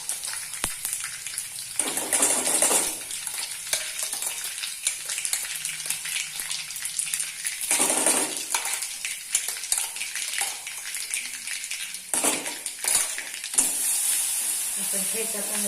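Thecha chili paste for vada pav being sautéed in a pan: a continuous bright sizzle with several louder bursts of stirring and spattering, close by, and a voice faintly in the background.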